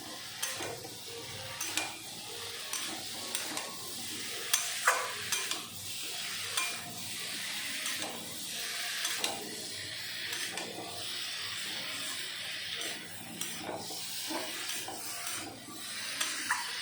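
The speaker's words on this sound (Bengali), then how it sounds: "লবণ দেওয়ার পরেও ভালো মতন মিশিয়ে কষিয়ে নেব।" Fish curry with yam being stirred and fried in a pan, a steady sizzle with repeated scraping strokes of the spoon throughout, close and without talking.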